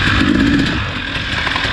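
A KTM two-stroke motorcycle races in a time trial, its engine giving a short, close, loud revving blast that drops slightly in pitch and keeps buzzing.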